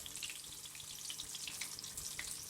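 Battered prawn tempura frying in hot oil, a steady dense crackling sizzle that runs continuously without a break, close and fairly quiet, with no voices over it.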